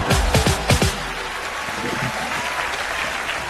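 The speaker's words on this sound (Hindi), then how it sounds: "सलमान भाई के लिए एक बार जोरदार तालियां हो जाए।" Studio audience applause on a comedy talk show, a loud burst of clapping that peaks early then settles into steady, fainter clapping and crowd noise.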